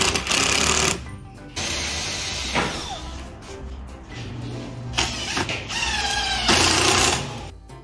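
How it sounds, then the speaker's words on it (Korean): Power drill fitted with a double drill bit boring screw holes in wooden boards for a solid-wood partition, heard as several loud whirring bursts with short pauses between them and no talk. "이중 드릴 비트로 피스 구멍 뚫어주시고 피스 결합"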